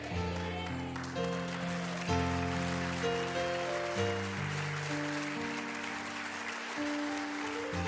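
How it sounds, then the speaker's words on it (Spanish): A church congregation applauds during a sermon, sustained crowd clapping mixed with sustained organ or keyboard chords and faint voices underneath. "Dele un aplauso más fuerte a Jesús"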